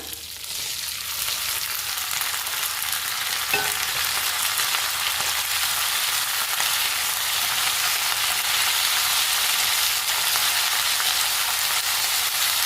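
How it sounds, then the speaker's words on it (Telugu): Green chillies frying in hot oil for a tempering make a loud, continuous sizzle that swells as they hit the pan and holds steady, with no talking. "ఇప్పుడు పచ్చిమిర్చి వేస్తున్నా"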